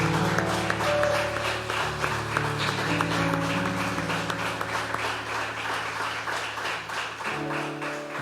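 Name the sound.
applause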